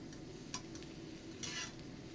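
A daikon galette pan-fries with a quiet, steady sizzle and a couple of brief light scrapes from a utensil in the pan. The sound stays faint and close, with no talking.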